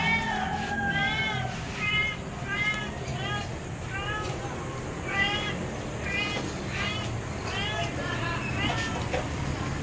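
A pet cat meows repeatedly in a steady series of calls over constant background noise and a low murmur of voices, sounding close and fairly loud.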